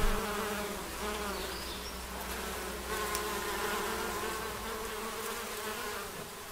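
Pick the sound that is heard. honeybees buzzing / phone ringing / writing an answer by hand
honeybees buzzing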